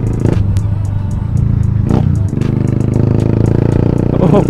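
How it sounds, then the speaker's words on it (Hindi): Yamaha FZ motorcycle fitted with a loud modified exhaust, a close, rough engine drone with sharp bursts and revving pulses that continue throughout. "एग्जॉस्ट इतना खतरनाक लगा हुआ है भाई"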